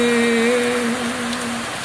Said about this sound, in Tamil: வாசுதேவநல்லூரிலே மழை பொழியுது. வானிலை சொன்னபடி மழை பொழியுது.